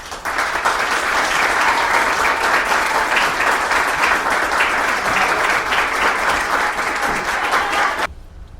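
Loud, dense applause from an audience at a women's day celebration, many hands clapping continuously and evenly for about eight seconds before cutting off abruptly.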